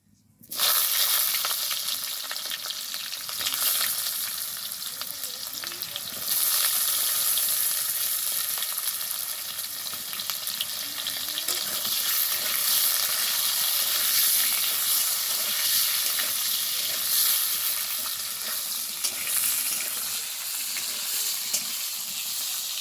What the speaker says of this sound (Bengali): তারপরে ভাজবো বেগুন।